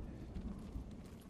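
Horse hooves clopping in the video game Ghost of Tsushima, a steady galloping rhythm at moderate volume over low game ambience, with no speech.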